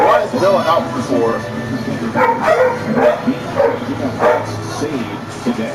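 A dog barks several times in short bursts, mixed in with people talking over it.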